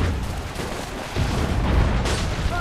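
Rapid bursts of gunfire and booming blasts from the video game Assassin's Creed III crackle continuously, loud and dense, with a heavier volley toward the end.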